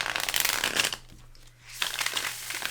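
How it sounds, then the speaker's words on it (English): A tarot card deck being shuffled by hand in two close riffling bursts with a short pause between them, crisp and fairly quiet, no voices. "So I have my deck to shuffle"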